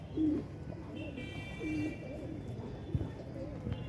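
Pigeons kept by a hobbyist coo softly in a few low, brief calls close by, heard faintly under a voice and some light background noise.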